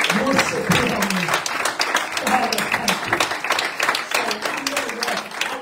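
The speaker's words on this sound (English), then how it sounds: "Why don't we all clap our hands to the Lord?" A church congregation claps along during a revival service, steady rhythmic hand claps close and loud, mixed with voices and singing throughout.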